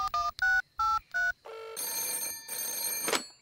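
A cartoon telephone rings in four short electronic bursts, then a brighter sustained warbling ring swells loudly and stops abruptly, clear and close with no talk.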